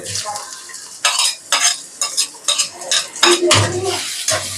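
Spice paste hitting hot oil in a pot after cinnamon and cardamom, loud crackling sizzle broken by repeated clanking spoon strokes against the metal, a fairly quick stirring rhythm close up; no talking.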